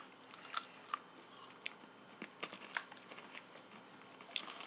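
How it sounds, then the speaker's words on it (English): Crunchy freeze-dried cheesecake is bitten and chewed close to the mic, giving sparse, sharp crisp crackles and crunches over a quiet background. "This is a crunchy cheesecake instead of a creamy cheesecake."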